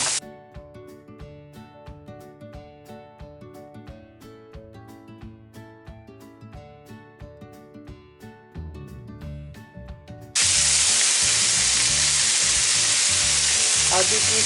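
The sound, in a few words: chilli and spices added to chicken mince frying in oil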